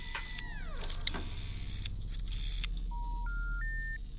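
Telephone dialing tones from the video game The Cat Lady, a short sequence of clean stepped beeps rising in pitch, played after a falling swoosh and some clatter over a low background drone.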